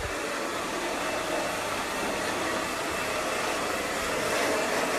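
A hair dryer blows steadily on short hair during a haircut styling, a continuous close airy roar that holds level for the whole stretch with no talk over it.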